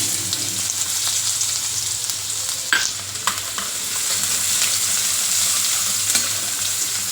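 Onions sautéing in hot oil with cumin seeds and asafoetida while bottle gourd curry is cooked, a loud steady sizzle filling the whole stretch, broken by a few stirring scrapes of a spoon in the pan.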